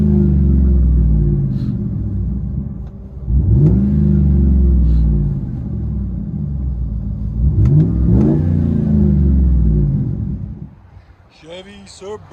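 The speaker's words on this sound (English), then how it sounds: "Chevy Suburban muffler resonator delete 5-inch tip. Came out sounded phenomenal." From inside the cabin, a 2011 Chevy Suburban Z/71 with a 5.3L V8 and straight-pipe exhaust (muffler and resonator deleted, 5-inch tip) drones loudly and deeply, swelling in two hard revs before settling.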